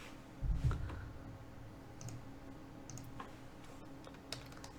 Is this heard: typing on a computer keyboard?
yes